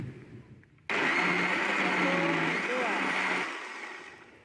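A blender runs steadily on cooled chili sambal thinned with a little water, starting abruptly with a loud whirring roar that holds for about two and a half seconds before winding down.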